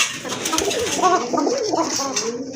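Pigeons in a loft give soft, throaty cooing phrases that repeat over about two and a half seconds. A clatter of dishes and a faint voice sit in the background.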